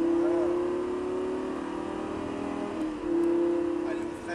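A Lamborghini Gallardo Superleggera on a track gives a loud, close engine drone whose pitch rises steadily under acceleration, dips briefly at a gear change, then climbs again, with faint voices beneath.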